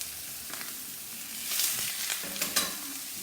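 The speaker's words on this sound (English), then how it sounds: "So we've got our olive oil in, and now we're gonna put our veggies in" Vegetables sizzle and fry in hot olive oil in a pan, stirred a few times with scraping sounds over a steady close hiss.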